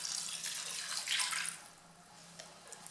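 Milk poured into the pot of a Cookeo multicooker, a short soft splashing trickle that swells for about a second and a half, then fades to faint drips.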